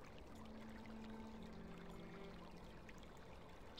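Water from a fountain splashes and gurgles in the Black Mirror 3 video game, a continuous soft rushing stream with faint tonal hums beneath, steady and moderately distant.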